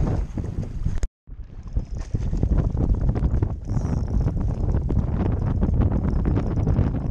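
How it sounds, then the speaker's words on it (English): Strong wind buffets the microphone with a loud, continuous rumbling roar on a lake shore at Castaic, broken by a brief dropout early on, then gusting steadily. "Conditions are really bad, it's really windy."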